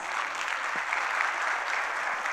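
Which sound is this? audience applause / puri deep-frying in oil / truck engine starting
audience applause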